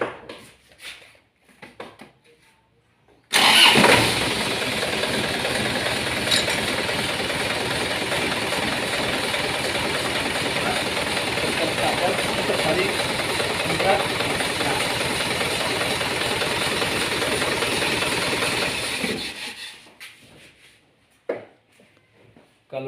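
A used car's engine starts during an inspection for thermostat trouble, then runs at a loud, steady idle with rough mechanical rumble for about sixteen seconds before shutting off, with brief speech before and after.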